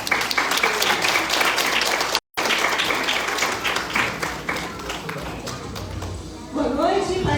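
A church congregation claps during a worship service in a sustained, dense burst of applause that cuts off briefly, resumes, and ends as a voice begins speaking.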